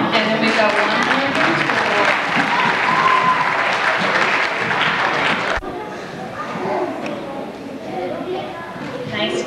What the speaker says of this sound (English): All right, we'll clap for them.